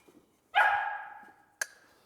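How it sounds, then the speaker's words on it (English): A puppy being trained to bark gives one sharp, drawn-out bark followed by a second short bark, both close and clear in a quiet room. "begin the steps of teaching her to bark at a target"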